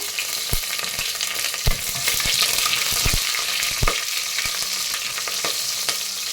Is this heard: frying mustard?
yes